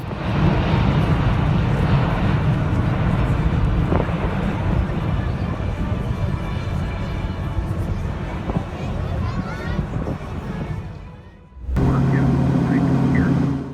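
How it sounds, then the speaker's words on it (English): An aircraft makes a rare vertical takeoff at the Le Bourget airshow with a loud, continuous roar. The roar cuts out briefly, then resumes strongly. "Watch Aviation Innovation take center stage at La Bourget Airport, where flight rules are rewritten with a rare vertical takeoff."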